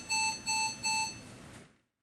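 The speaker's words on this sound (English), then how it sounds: "If an alarm occurs, the current cycle immediately stops." A Vision Cart Washer alarm buzzer sounds three loud, evenly spaced electronic tones, each a steady pitched beep, followed by a fading tail, with no voices.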